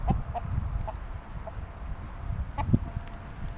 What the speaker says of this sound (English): They are my lovely chickens.